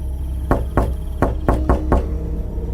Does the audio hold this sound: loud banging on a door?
yes